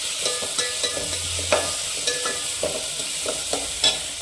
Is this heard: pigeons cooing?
no